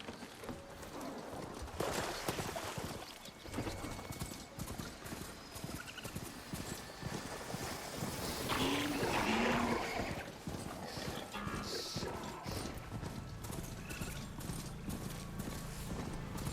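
Hooves of a mount galloping in Horizon Zero Dawn, a fast, steady clip-clop rhythm running throughout with a brief whinny and game ambience, no voices.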